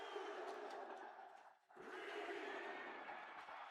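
WWE 2K26 wrestling arena crowd cheers loudly, a thick roar that dips briefly near the middle and then surges back to full, sustained volume.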